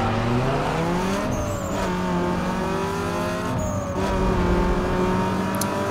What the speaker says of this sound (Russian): да, я сейчас мотор перегрею